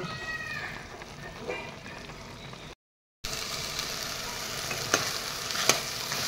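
Soybean curry cooking down in a pan, a soft steady bubbling hiss with faint pops, cut by a brief gap of silence before it resumes a little louder, with no talk.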